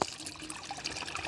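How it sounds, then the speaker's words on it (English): Water squeezed through a hiking water filter trickles into a clean bottle at a backpacking water source, a short, close and steady splashing stream with no voices. "I prefer to sit at a water source and filter the water into a clean bottle"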